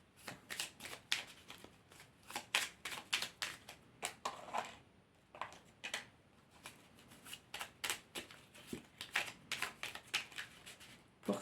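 Angel oracle cards shuffled by hand, a soft close series of papery riffles and flicks in irregular bursts, with no talking.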